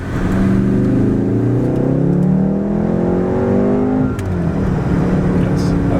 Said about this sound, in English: you don't realize it's a turbo and it really gets up and goes